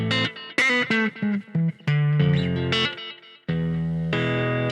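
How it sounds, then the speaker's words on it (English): Two layered electric guitars with effects and distortion play one part together in a 2000s-style pop-R&B track, shifting between sustained chords and short choppy stabs with some gaps, loud and close with no talking. "Next up is we have our guitars, the electric guitars, and they sound something like this."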